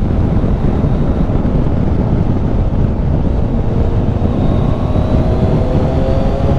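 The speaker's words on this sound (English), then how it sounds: "as usual in Scotland, it is a wee tad windy" Strong, steady wind in Scotland roaring and buffeting a microphone, loud and continuous throughout with no other sounds.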